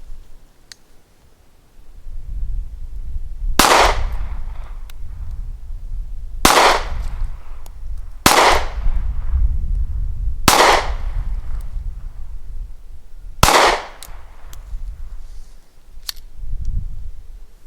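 Five sharp gunshots from a Smith & Wesson Bodyguard 380 compact pistol fired at 10 yards, spaced a couple of seconds apart over a low rumbling background, with a fainter pop near the end.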